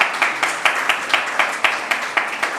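At a Hindi kavi sammelan poetry gathering, a few hands clap in a quick, even rhythm, about four claps per second, moderately loud and close, with no talking over them.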